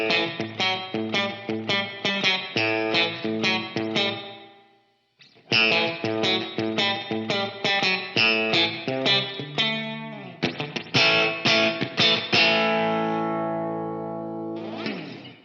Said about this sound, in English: I've dialed in some really cool long and drippy spring reverb, which you can hear now.